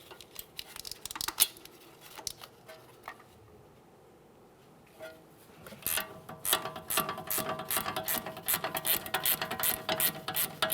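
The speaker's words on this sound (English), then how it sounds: "To remove the nut while holding this, I'm using an 18mm ratcheting wrench." An 18mm ratcheting wrench clicks loose the front strut nut on a 2017-2024 GMC Acadia. Scattered close clicks come first, then a quiet gap, then a steady run of rapid ratchet clicks.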